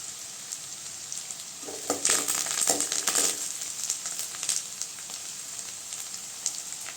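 Curry leaves drop into onions frying in a pan, setting off a louder burst of crackling sizzle that then settles back to a steady, close frying hiss.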